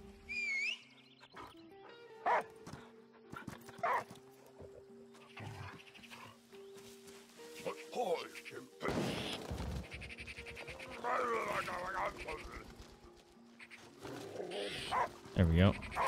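A dog in the video game Last Day of June gives scattered barks amid layered game sounds and background noise, rising louder toward the end.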